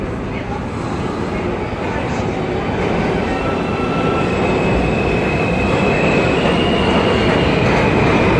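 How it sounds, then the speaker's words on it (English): A Second Avenue-bound Q express subway train on New York's BMT Broadway Line rumbles steadily along the tracks with a loud, continuous roar and a faint high squeal, growing slightly louder as it runs. "Second Avenue bound Q Express train."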